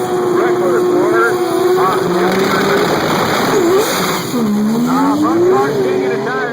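Drag racing cars roar down the track at high speed in a loud, continuous engine howl with sweeping pitch changes, while an announcer talks over it.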